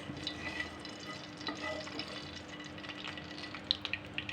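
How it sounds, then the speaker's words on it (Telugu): Whole clove, cardamom and shahjeera sizzle in hot oil for a mutton keema fry, a soft continuous frying hiss with occasional light stirring scrapes and small pops close by, no voices. "ఒక లవంగం, ఇలాచి, షాజీరా మంచిగా ఫ్రై చేసుకోవాలి."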